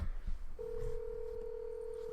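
On a phone call that goes to voicemail, a burst of dialing tones is followed by a single steady electronic tone held to the end.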